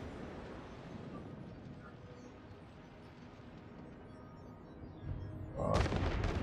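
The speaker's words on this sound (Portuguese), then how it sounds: "Ó, o tiro que cai no deck é fogo." Naval gunfire in the warship game World of Warships, with a Bismarck battleship's shells striking a deck: a steady rumbling roar of combat noise, then a sudden loud close blast near the end.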